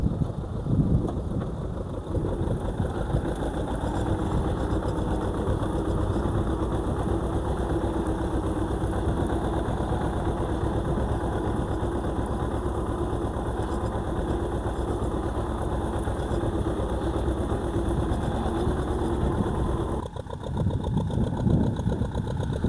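A T-25 tractor engine runs continuously while pulling a Kverneland plough through a field, a loud, steady, close diesel drone with a slight dip near the end.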